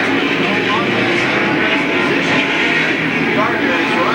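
Late model race cars roar down the front straightaway at Louisville Motor Speedway, a steady dense engine drone filling the whole stretch with layered crowd and track noise beneath it.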